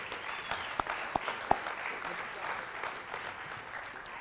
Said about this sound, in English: Let's give a big round of applause to our Booster Club members for their continued support.